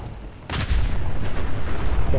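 Gunfire in Fallout 4, a sudden loud burst of shots and booming rumble kicking in abruptly and continuing densely to the end, with no talk.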